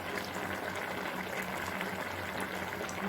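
Fish curry with cauliflower and potato simmers in a pan, a soft continuous bubbling and hiss, fairly quiet and steady with no voices.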